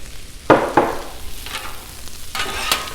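Turkey fried rice dumped onto a Blackstone griddle set around medium heat, sizzling steadily as a spatula scrapes and stirs it in a few sharp bursts, close up with no talking.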